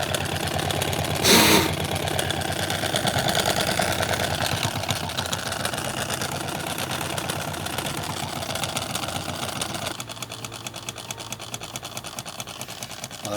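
A homemade Stirling engine, heated by a sizeable flame, runs steadily with a fast, even mechanical whir and light rattle, close and continuous throughout, with a brief louder knock near the start.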